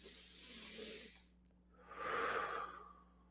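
A person takes slow, controlled breaths during a resting heart rate exercise, with a gentle inhale followed by a longer, louder exhale, heard up close and alone.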